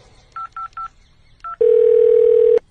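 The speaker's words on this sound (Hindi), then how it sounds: "अभी मेरे दोस्त को फोन करता हूँ" A telephone dialing a call: four short keypad tones, three in quick succession and one after a pause, then a steady, loud dial tone lasting about a second.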